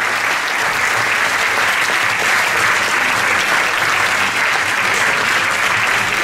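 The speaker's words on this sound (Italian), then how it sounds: "Un applauso a tutti i nostri campioni." A school anniversary sports awards ceremony for student champions, with dense sustained applause from an indoor crowd that holds steady throughout.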